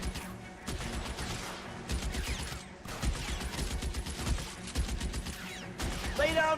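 Gunfire in the L.A. Noire video game comes as a rapid series of loud, sharp shots in bursts, close and dense, with brief pauses between volleys and speech partly mixed in.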